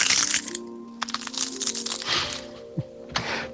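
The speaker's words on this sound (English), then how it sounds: "Now for the texture, we did the bones breaking. I want to show you how it sounds without the low pass first." A bone-breaking sound effect, left unfiltered, gives sharp bright cracks and crunches: a dense crackling burst at the start, then scattered snaps and a few hard cracks, close and crisp.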